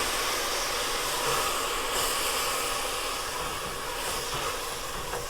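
Dry white Sauvignon Blanc poured into a pan of cooking risotto gives a loud, steady sizzling hiss that holds at a constant level throughout.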